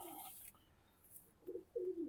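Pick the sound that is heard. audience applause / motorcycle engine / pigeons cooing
pigeons cooing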